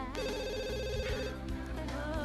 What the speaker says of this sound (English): Okay, we got phones ringing.